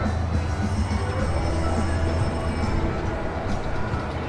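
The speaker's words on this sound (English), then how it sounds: "I've also got the transport ride, the train which comes around this area" At Paultons Park, a UK theme park, the transport train ride rumbles past with rolling wheel noise and a thin high squeal, a loud steady pass under a murmuring crowd.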